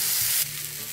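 Garlic and onion frying in a pan for vegan burgers, a dense close sizzle that drops slightly in level partway through the brief moment.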